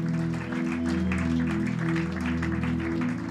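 Church congregation applauding, a continuous patter of clapping heard over sustained organ or keyboard chords, with a steady rhythm and a pulsing low note underneath.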